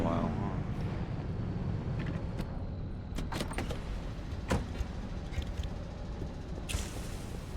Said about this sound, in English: Sounds like my motor is about to go kaput.